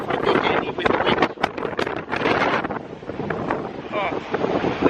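Strong wind blasts across a microphone on a beach at night, loud gusty roaring that swells and dips without pause.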